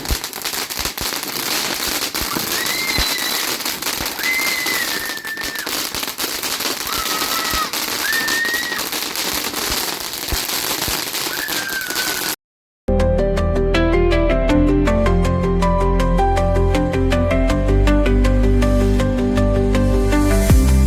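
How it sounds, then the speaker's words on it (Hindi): Diwali firecrackers crackle and pop in dense outdoor bursts with rising whistles overhead, then give way after a brief gap to a loud stretch of layered, musical-sounding noise. "छोड़ रहे हैं पटाखे।"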